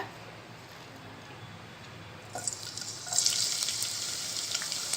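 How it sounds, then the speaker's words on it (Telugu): Oil heating in a pan on a stove for prawn curry starts to hiss, with a faint quiet background that gives way after a few seconds to a steady bright sizzle that holds until the end. "స్టవ్ పెట్టుకొని ఆయిల్ పోసుకొని ఆయిల్ వేడెక్కాక"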